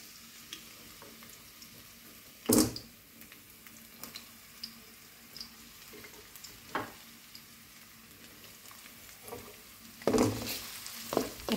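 Broccoli, carrots, red pepper and onion sautéing in a pan, giving a quiet, low sizzle broken by a few sharp scrapes and clatters of a utensil against the pan, with no talking.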